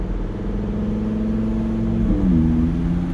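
A car with a loud aftermarket exhaust idles with a deep, throaty rumble, then revs up loudly around the middle before settling back to a heavy idle, close by.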